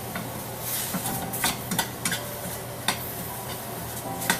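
Banana flower for parippu kuzhambu sautés in a pan, a constant soft sizzle broken by scattered scrapes and taps of a spoon against the metal, with no voices.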